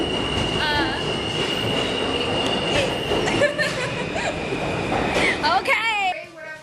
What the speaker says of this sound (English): That's all we do is take trains to our next location.